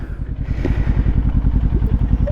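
A Kawasaki Ninja 400 motorcycle on the move gives a steady, close, loud engine drone with a rapid, even pulse throughout, and no voices over it.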